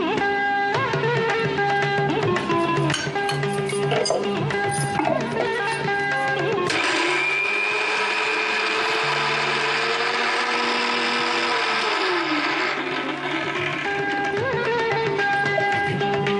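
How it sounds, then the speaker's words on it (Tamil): An electric kitchen blender grinds spices and green chillies in loud, close bursts, its motor whine pitching and labouring as the mixture churns, with a brief pause midway before grinding continues. "இதெல்லாம் ஒன்றா பிளெண்ட் ஆயிடுச்சு நல்லா"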